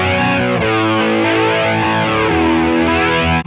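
Electric guitar through a Fender Tone Master Pro amp-modeler preset plays a continuous, heavily distorted chorded passage with chorus-like shimmer, loud and dense throughout with no voices.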